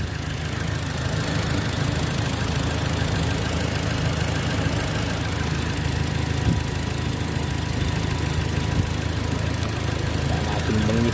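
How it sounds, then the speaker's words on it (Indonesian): A Toyota Innova engine idles smoothly and steadily, with a low, even rumble and no voices. "Halus, mesin halus."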